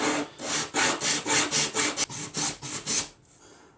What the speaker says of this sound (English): Hold it down like this and sand.